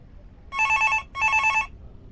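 A telephone rings twice in the horror video game Get Stuffed, two loud electronic bursts of about half a second each, separated by a short gap, with no voice over them.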